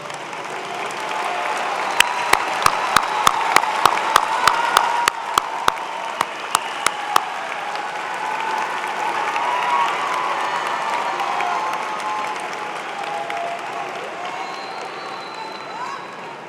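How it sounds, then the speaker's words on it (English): Graduates at a spring commencement ceremony for a college of engineering applaud the relatives and friends seated in the audience. Sustained crowd applause with some cheering runs throughout, and a series of sharp, evenly spaced bangs sounds near the start. "honor them one more time with a round of applause"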